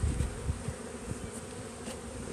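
Honeybees buzzing around a beehive, a continuous close drone with individual bees passing near the microphone, no voices.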